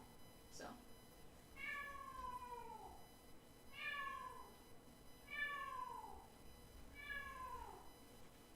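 A pet cat meows four times in a row, each cry drawn out and falling in pitch, fairly close against a soft background hiss, with a higher squeak just before the first meow.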